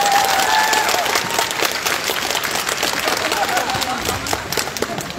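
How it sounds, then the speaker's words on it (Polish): Audience applause and clapping at a cosplay contest during a fantasy festival in Gliwice, a dense steady wash of many hands close by, with cheers and voices mixed in throughout. "Brawa na tych dziewczyn!"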